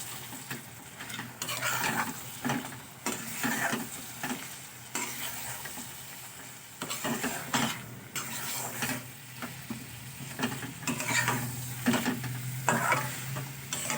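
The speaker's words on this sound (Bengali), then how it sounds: "এবারে দিয়ে দেবো আমি ভেজে রাখা মাছগুলো, দিয়ে আমি একটু ভালো করে কষে নেব।" Fried deshi magur catfish sautéing in oily spice paste, a continuous close sizzle with frequent rhythmic spatula scrapes and stirs against the pan, moderately loud, with no voices.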